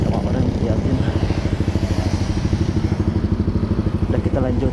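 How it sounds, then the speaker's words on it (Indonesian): A Honda Sonic 150R motorcycle fitted with a Proliner TR1R short exhaust revs gently, a loud, close, rapid pulsing exhaust note with light throttle blips over a steady low idle. "kita gebernya dikit-dikit aja"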